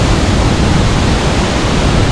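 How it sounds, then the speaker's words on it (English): Tuolumne Falls waterfall in Yosemite gives a steady, loud, broadband roar of rushing water, continuous and unbroken, with no voices over it. "Tuolumne Falls!"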